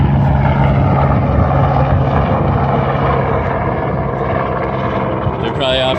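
A loud, steady helicopter roar with rotor chop and turbine whine as it takes off, filling the scene, with people talking under the engine noise.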